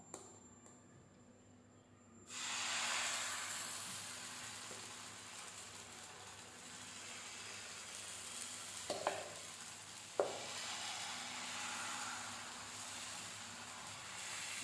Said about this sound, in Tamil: எண்ணெய் நல்லா சூடாயிடுச்சுங்க. இப்போ வந்து மாவு ஊற்றிடலாம்.